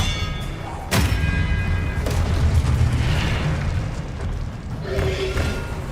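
A fire-blast spell goes off in a wizarding video game: a sudden booming burst near the one-second mark, followed by rumbling thuds and a second softer impact, with music and game effects underneath.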